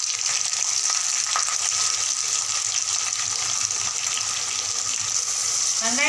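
Onions sizzling and frying steadily in a pan for cauliflower kurma, a continuous loud hiss with a little stirring, close up and without talk.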